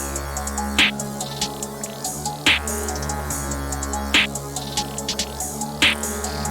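Steady trap beat with a booming low end, crisp hi-hat ticks and a sharp snare hitting on a slow regular pulse under layered melodic synths.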